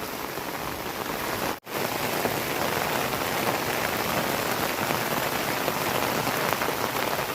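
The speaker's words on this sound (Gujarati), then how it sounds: "છે ને બાકી વરસાદની મોજ" Heavy monsoon downpour during a flood, a dense, loud, unbroken roar of rain hammering surfaces, with one momentary dropout early on.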